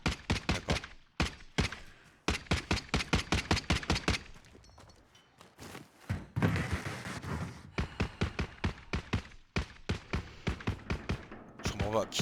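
Video game gunfire as rapid, evenly spaced automatic bursts, with a short pause midway filled by a louder blast and rumble, then the rhythmic shooting resumes; voices talk at times over the fire.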